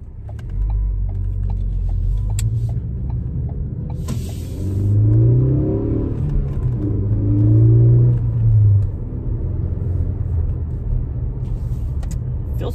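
A Ford Focus ST with a Steeda clutch spring fitted drives on the road, its engine a steady low rumble heard from inside, rising in two brief surges as it accelerates, with faint creaks and no talking.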